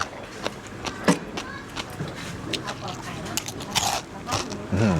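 Crisp crunching bites into fried chicken skin, several sharp crackles in a row, close to the ear, with people talking alongside, during a meal with papaya salad in Thailand's Isan region.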